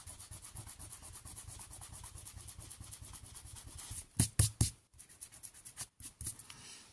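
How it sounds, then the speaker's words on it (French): Eraser rubbing across a scrapbook card, a steady scratchy back-and-forth friction close up, ending in a few sharper, louder strokes with brief pauses between them. "je vais gommer"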